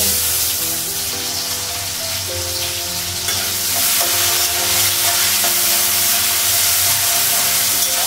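Sliced potatoes drop into hot oil with fried onions in a pan, giving a loud continuous sizzle and crackling hiss, close up, with stirring clinks and no talking.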